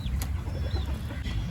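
A hen clucks nearby in a rural home setting, a few short, throaty clucks over a steady low background rumble.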